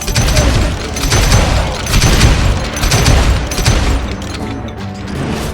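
Rapid, dense gunfire in the western game Call of Juarez: Gunslinger, loud bursts of shots and booms arriving in waves with heavy low rumble, steady and close for several seconds.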